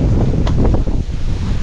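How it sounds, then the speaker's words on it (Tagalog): Strong wind buffets the microphone with loud, continuous rumbling gusts. "Pero malakas pa rin pong hangin."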